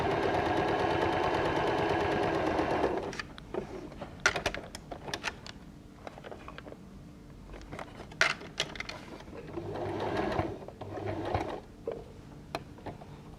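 Home sewing machine stitching a Whirlwind quilt block, a steady whirring run followed by stop-start bursts of stitching and sharp clicks and knocks as pins are pulled and fabric is handled.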